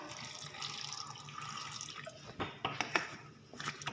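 Water is poured into a pot of dalma, an Odia lentil dish cooked Puri Jagannath temple style with salt and turmeric, about one and a half cups going in. The close, continuous splashing swells into a few sharper splashes near the end.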